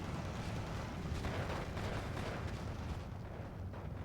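A 6-pounder anti-tank gun fires in the Steel Division 2 war game amid a dense, continuous roar of battlefield gunfire and explosions, with heavy low rumbling throughout.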